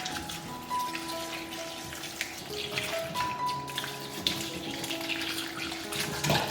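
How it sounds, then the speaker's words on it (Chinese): Purple chili peppers being washed under a running tap, stems snapped off as they are rinsed; a steady splash of water with small handling clatters, close and moderately loud, no talking. "这个时候我们再来洗一些紫天椒，昨天花了5块钱买的。 一边洗一边把这个蒂头给它掰去。"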